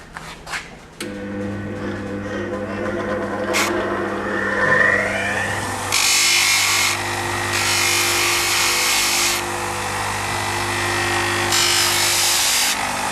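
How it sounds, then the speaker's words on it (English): Hand sanding the brake pads of a TNN HS33 hydraulic rim brake, rhythmic rasping strokes against a steady background hum, close and moderately loud. "Just sand a little bit, and just check as you sand."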